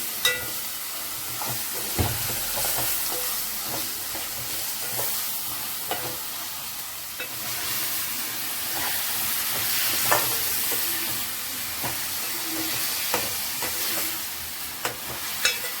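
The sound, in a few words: tomatoes frying and being stirred in a pan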